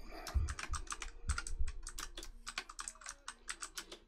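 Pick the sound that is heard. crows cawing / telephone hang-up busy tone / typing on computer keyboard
typing on computer keyboard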